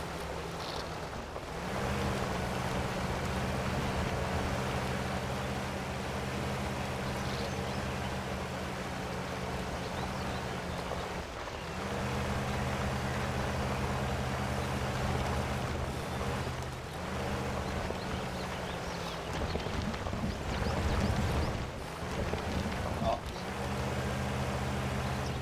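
A Suzuki Samurai engine in the off-road video game SpinTires, crawling at low speed: a steady low droning hum holding one RPM range, with brief dips and swells, plus a rougher surge near the end.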